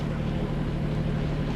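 A sailboat under engine assist heading into a light headwind on a warm day, giving a steady low motor drone with wind rush across the microphone, continuous and fairly close, no talking.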